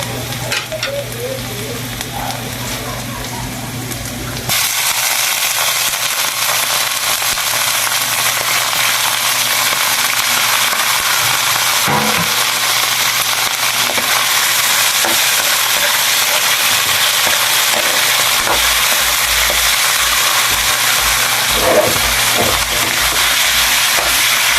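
Pork pieces frying in a hot pan with garlic, a loud steady sizzle that jumps up once the meat goes in, with occasional stirring scrapes and no talk.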